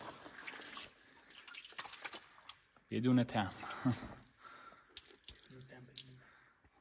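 Cool spring water trickles and splashes inside Kahak cave near Delijan, with bursts of louder flow and close talk over the steady trickle.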